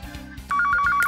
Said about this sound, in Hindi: फोन आया।